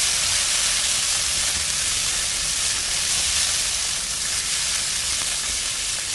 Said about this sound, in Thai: ใส่หมูลงไปค่ะ จากนั้นก็ผัดต่อค่ะ